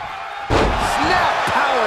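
In WWE 2K22, Goldberg hits a snap power slam, a sudden loud body slam impact on the ring mat that erupts over a roaring arena crowd while a commentator talks.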